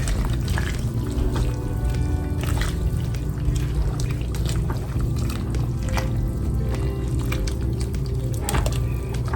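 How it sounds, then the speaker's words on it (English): Collard greens churned in a pot of liquid, with a steady wet sloshing and swishing that runs loud and continuous throughout, with no voices. "Stir everything up."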